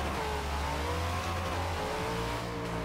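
Race car revving and launching hard in a Forza Horizon 4 rear-wheel-drive drag race, a loud continuous engine roar with rising gear tones that climbs steadily and stays strong throughout, with no talking.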